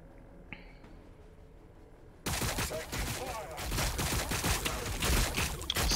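A small pistol fires in Warhammer 40k BattleSector, a sudden dense volley of rapid, close shots that starts after a quiet stretch and keeps crackling loudly to the end.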